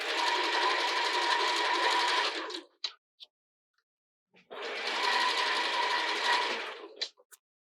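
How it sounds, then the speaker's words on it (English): A sewing machine runs in two steady, loud bursts of several seconds each, stitching a seam on a stretchy sports bra with a short gap between runs. "I gently stretch it as I sew."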